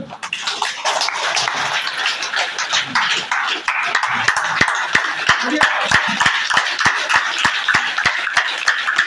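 Applause from an audience at a senior masters felicitation event: a crowd claps in a steady, fairly loud rhythm that builds into sharp, evenly spaced hand claps, with voices mixed in.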